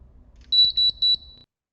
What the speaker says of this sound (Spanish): Nos hace 3 bips indicándonos que este llavero ya ha sido grabado